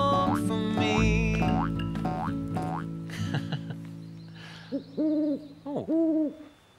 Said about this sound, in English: it's a mopoke owl